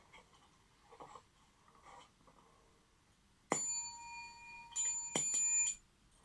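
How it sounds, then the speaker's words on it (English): A bright call bell is struck twice, each ring sustaining a clear metallic tone that slowly decays, after quieter faint handling noises. "This is a call bell."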